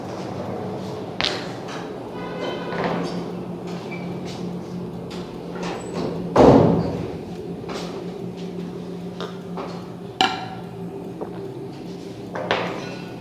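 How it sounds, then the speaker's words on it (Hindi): A door swings shut in a room, one loud close thud standing out over a steady background hum, with scattered knocks and small clicks around it. "ये बंद कर दो दरवाज़ा।"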